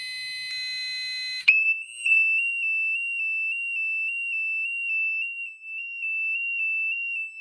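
A Safe House 49-470 alarm panel buzzer sounds as a loud, steady high-pitched tone, holding continuously at close range after a brief jumble of electronic tones at the start.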